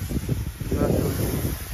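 Wind blowing across an open farm field, a steady low roaring rush buffeting the microphone, loud and continuous with no clear gusts or pauses.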